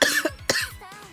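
A person with a lingering summer cold coughs three times in quick succession, sharp and close, with no speech around the coughs.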